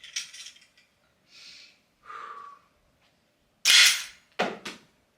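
A rat trap snaps shut with a sharp bang, a loud close crack preceded by a few faint clicks and handling noises.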